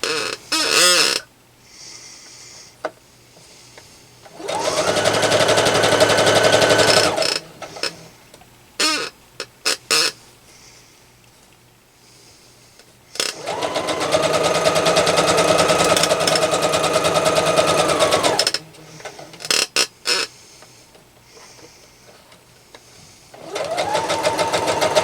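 A sewing machine stay-stitches a tablet bag seam at a half-inch seam allowance. Several loud, close, steady runs of rapid stitching are separated by quieter pauses with small clicks and handling noises, and nobody talks.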